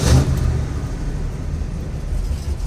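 A worn Oldsmobile 442 V8 runs on all eight cylinders, a steady rumbling idle with a slight swell at the start and mild unevenness throughout, close and fairly loud.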